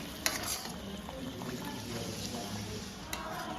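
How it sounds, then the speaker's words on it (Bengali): Masala fries and sizzles in oil in a pan for a Bengali potol dorma gravy as a little water goes in, giving a steady close crackle with a few sharp splashy spits. "মশলা থেকে তেল ছেড়ে এসেছে এবার আমি সামান্য জল দিয়ে দেবো"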